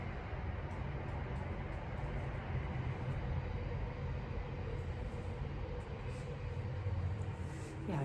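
A train rumbling past close by outdoors, a steady low, broad roar that holds evenly throughout with no voices over it.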